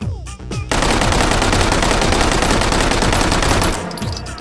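A World War II submachine gun in the H3VR game fires a loud, sustained automatic burst of rapid rattling shots for about three seconds, preceded by a few mechanical handling clicks and followed by a brief tail.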